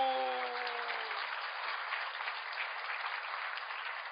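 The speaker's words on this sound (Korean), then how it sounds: "박수." A church congregation breaks into sustained applause during a sermon, a dense, even wash of clapping that starts after a brief voice and carries on steadily to the end.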